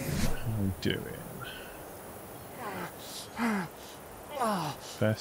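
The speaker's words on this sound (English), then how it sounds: "Being thirsty makes you make that noise" A thirsty character in Ark Survival Evolved makes a few faint gasping, sighing vocal noises at intervals over quiet background.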